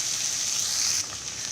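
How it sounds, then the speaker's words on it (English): Sliced okra (bhendi) sizzles and fries in oil in an open pot, a steady hissing crackle that drops slightly when stirred. "our bhendi is frying"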